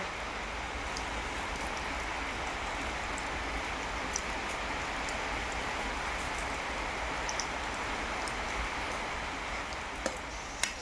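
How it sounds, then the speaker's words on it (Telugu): Steady, even patter of rain on a roof, broad and constant throughout, with a few sharper drips near the end and no talking. "వంట సౌండ్ కంటే మా ఇంటి మీద పడే వాన సౌండే ఎక్కువ వస్తుందండి"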